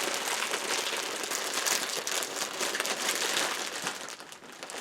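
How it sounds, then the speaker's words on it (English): Plastic wrapping on a plush toy package being torn and crinkled open up close, a dense, continuous papery rustle lasting several seconds with no voices. "Actually, I could just tear this open."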